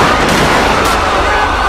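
Loud, continuous gunfire roars in a Los Santos police video game shootout, dense overlapping shots with no pause.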